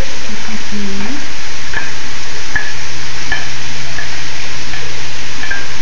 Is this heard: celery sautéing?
yes